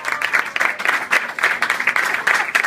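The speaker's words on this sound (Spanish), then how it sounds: "un fuerte aplauso para Mónica también, por favor" Audience applause for Mónica at a basketball trophy presentation, lively uneven clapping from a crowd with rhythmic bursts, moderately close and loud.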